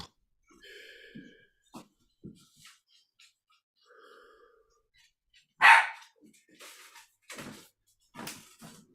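A performer's voice imitates a single loud dog bark during a live improv theatre show, rising sharply out of quieter stage shuffles and brief knocks, with a few shorter noises after it.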